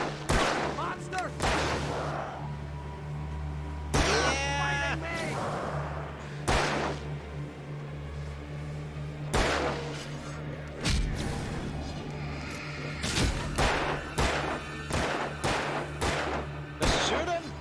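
Gunshots in the video game Alan Wake, a series of sharp, separate shots spread through the clip over a steady low hum, with voices talking in between.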